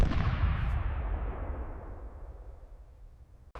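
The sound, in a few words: gunshot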